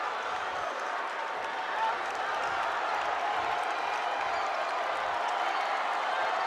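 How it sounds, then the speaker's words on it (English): Basketball crowd at a boys' high school state tournament game in a packed gym, a steady loud roar of applause and cheering that sustains without a break, dense and continuous throughout. "Crowd on their feet."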